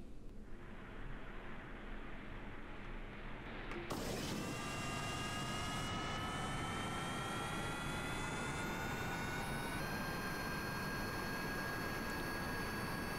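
Jet engines on a VTOL aircraft in the game Kerbal Space Program are quiet at first, then ignite into a loud, steady roar with a high whine that climbs gradually in pitch and holds to the end.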